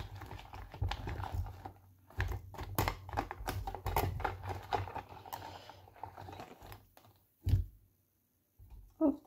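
Stickers being mixed and shuffled by hand, giving close, dry rustling and flicking with irregular bursts and pauses, ending in a brief muffled sound.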